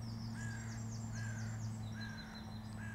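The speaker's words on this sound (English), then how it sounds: "But we can hear the birds in the background." Crows cawing outdoors, a series of repeated hoarse calls at a moderate distance over steady low background hum, with no talking.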